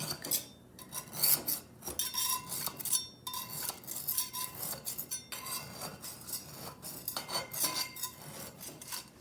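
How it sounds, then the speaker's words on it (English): A knife runs around the edges of a hot stoneware baking pan holding banana nut bread, giving repeated close scraping and rasping strokes with light metallic clinks, steady for several seconds without speech. "Now I'll just run a knife around the edges just to make sure it's not sticking."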